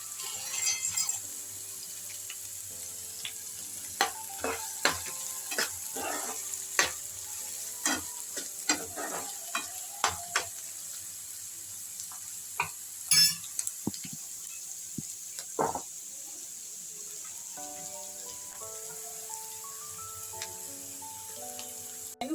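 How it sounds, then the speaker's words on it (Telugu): Ponnaganti greens sizzle softly in a pan while a utensil scrapes and taps repeatedly, stirring in irregular bursts, with faint kitchen clatter near the end. "ఇది ఒక రెండు నిమిషాలు ఫ్రై చేద్దాం"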